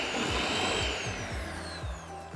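An electric mixer whirs steadily as it whips cake batter for an almond flour birthday cake, a loud continuous motor drone with a rhythmic pulsing as the beaters turn, with no talking.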